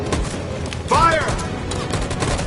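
A sharp volley of gunfire fired on command in the Detroit video game, one loud burst standing out against a noisy background with a brief vocal cry.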